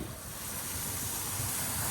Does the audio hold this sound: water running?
yes